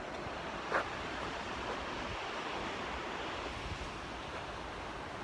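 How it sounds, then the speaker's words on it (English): Potomac River water flowing as a steady broadband rush with soft wind noise, continuous and moderately quiet, no voices. "So this is the Potomac River."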